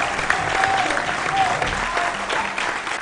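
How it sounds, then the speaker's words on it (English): Audience applause fills a school quiz contest hall, steady and dense throughout with a few whistles rising above the clapping. "the noise or the applause says it all."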